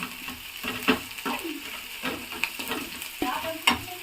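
Onion frying in oil until it browns, a close sizzling hiss broken by several sharp stirring scrapes and clinks of a spoon against the pan, no voices.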